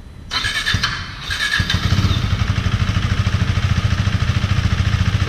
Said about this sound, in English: let me just fire it up, as you can hear the exhaust note of this bike.